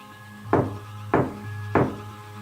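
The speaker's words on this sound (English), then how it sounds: "So I'm going to knock 3 times, and then if you can knock 3 times." Three sharp knocks on wood at an even pace, about half a second apart, during a ghost hunt investigation. Each knock is close and loud over a low steady hum, with no voices.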